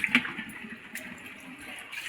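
Seawater flooding in at high tide, a steady close wash of moving water with one brief clatter near the start, with no talking.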